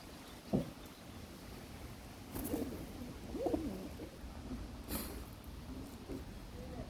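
Pigeons in a breeding loft with chicks and eggs coo softly in a few brief, low bursts against steady background noise, fairly faint and unhurried.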